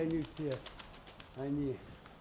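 A hen pigeon in a fancier's loft gives soft, rolling coos in three short bursts, with a pause before the last. They are fairly close but quiet, with voices faint around them.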